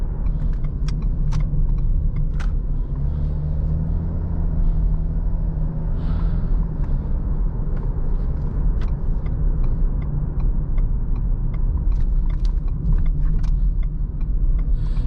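A 2022 Ford Explorer with a 10-speed automatic drives along steadily, its low road and engine rumble constant and close from inside the cabin, with faint clicks and ticks over the top.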